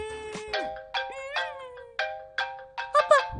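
A mobile phone ringtone plays for an incoming call from dad, a repeating sequence of bright electronic chime notes in short, evenly spaced bursts, clear and unaccompanied.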